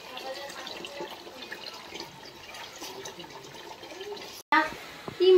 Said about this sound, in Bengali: ওগুলো ধুয়ে দিচ্ছে।